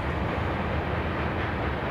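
A steady, loud rumbling roar of a grain freight train with hot brakes rolling past nearby, continuous and unbroken throughout.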